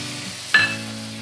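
Tomato paste and spices hitting a hot pan, a sudden short hiss and sizzle with a faint clink, rising out of a low electrical hum and fading within a fraction of a second.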